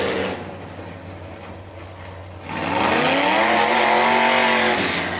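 A demolition derby car's engine roars loudly and steadily up close at a derby event, rising to a sustained, rough high-revving drone after a quieter stretch of crowd and arena noise.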